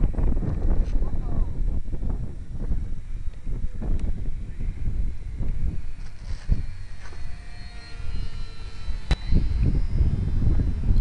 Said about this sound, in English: the wind is getting a little strong now